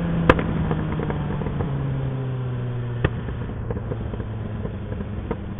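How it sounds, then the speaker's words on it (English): A motorcycle engine runs with the exhaust slip-on muffler removed, a loud, rough, continuous rumble with popping and crackling bursts, one sharp bang early on, steady throughout. "so I took the slip-on off. The only problem with it is it's goddamn loud."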